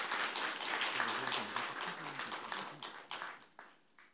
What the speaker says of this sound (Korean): 다시 한번 싱하이밍 대사님께 큰 박수 부탁드립니다